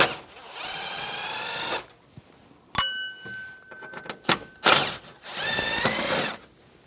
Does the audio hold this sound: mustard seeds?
no